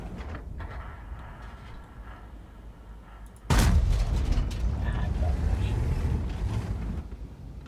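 Tank cannon fire in World of Tanks on the Mäuschen, a mini Maus: one loud, sudden boom with a long rumbling tail sits under a player's talk.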